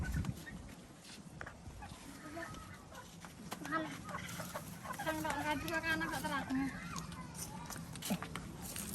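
Chickens on a farm cluck and chatter in a busy, overlapping stream that swells in the middle, heard up close while people talk over them.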